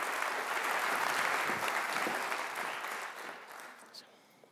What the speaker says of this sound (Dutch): een warm applaus voor professor Sarah Durston